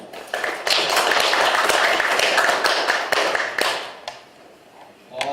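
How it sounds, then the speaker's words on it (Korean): Attendees at a forum on the May 18 democratization movement give a hearty welcoming applause, a dense, even roar of many hands in a hall that gradually fades to a few last claps. "힘찬 환영의 박수로 인사를 나누시죠"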